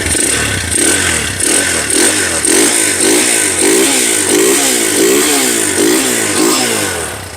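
A 2005 Honda motorcycle engine revs loudly and close, throttle rising and falling in a steady rhythm over a rough, clattering idle.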